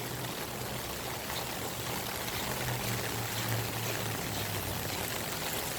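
Rainwater from a house roof pours out of new gutters during street flooding, a steady, dense rushing splash that stays even and continuous throughout, heard at moderate distance with no talk.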